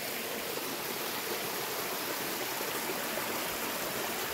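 A small river stream flows steadily past in the mountains near Puerto Barrios, Izabal, giving a constant, even rushing hiss with no breaks or voices.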